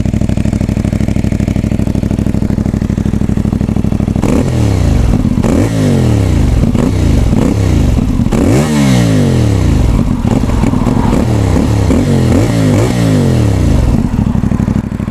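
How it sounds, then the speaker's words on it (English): A CFMoto 450 MT motorcycle with its standard exhaust idles loudly up close, then revs repeatedly in sharp bursts, each rise falling back, with a rough burbling tone between revs. "What a noise that makes. Standard exhaust, that sounds absolutely incredible."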